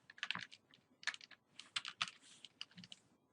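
Numbers being typed into a calculator or computer keyboard: quick bursts of light plastic key taps in uneven clusters, close and fairly faint, with no talk.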